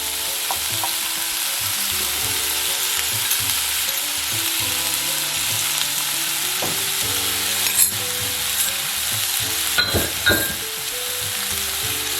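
Eggs scramble in a hot frying pan beside fried rice: a loud, steady sizzle close by, punctuated by repeated scrapes and taps of a spatula stirring, with no voices.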